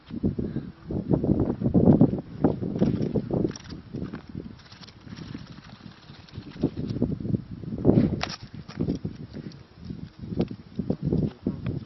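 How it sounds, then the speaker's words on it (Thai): Strong wind gusting outdoors during kite flying, roaring and buffeting the microphone in loud uneven surges with rustling, no clear voices. "วันนี้ลมแรงดูพายุค่ะฝุ่น"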